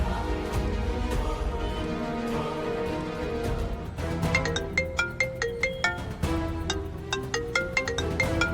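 A mobile phone ringtone plays a repeating melodic tune, moderately loud and alone, with a steady run of bright chiming notes in its second half.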